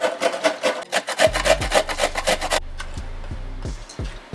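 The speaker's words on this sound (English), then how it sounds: "with our box grater, we're gonna take our tiny holes, pop that in. We're gonna go ahead and grate our carrot." A carrot is rubbed against the small holes of a box grater, giving a quick series of close, rhythmic scraping strokes that turn fainter and more scattered toward the end.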